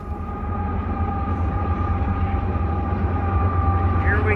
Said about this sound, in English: the train is right on schedule coming down the track